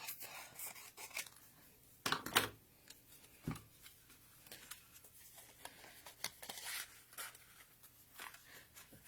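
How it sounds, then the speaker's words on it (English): Scissors snip through paper close up and quietly, a few crisp cutting strokes mixed with soft rustling and handling noises at low volume. "I'm just going to snip this bottom off."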